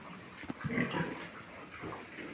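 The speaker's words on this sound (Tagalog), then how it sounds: "Nagpakain tayo ng mga alaga nating baboy." Pigs, including sows, grunt and snort close by at feeding time, a few low oinks and snuffles rising and falling over a couple of seconds with no talking.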